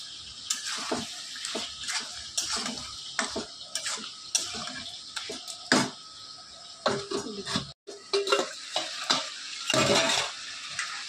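Country chicken curry being stirred in a pan with salt, a spoon scraping and knocking against the metal in an irregular rhythm, close and fairly clear, with a soft sizzle beneath the strokes.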